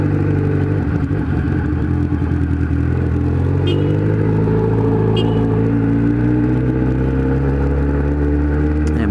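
A Kawasaki Z1000 being ridden, its engine rumbling loud and close with a continuous droning hum, wind noise, and occasional clicks from the bike.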